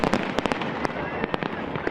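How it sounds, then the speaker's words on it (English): Fireworks bursting in a rapid string of sharp, loud cracks and pops over a dense crackling wash, close and continuous for a couple of seconds, with no voices. "how do those spectacular displays that light up the sky actually work?"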